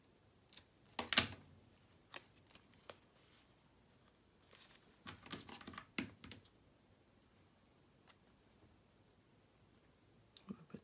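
Scissors trim a small edge off patterned paper for a mini scrapbook album: a few quiet, crisp snips scattered through a near-silent stretch, with a short burst of cuts in the middle.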